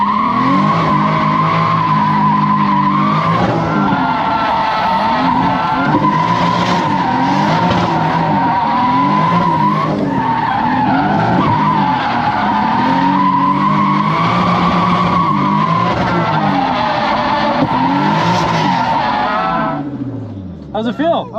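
Drift car engine revving hard with sustained tire squeal and skidding, loud and continuous for about twenty seconds, with engine pitch rising and falling through the slide before it cuts off near the end.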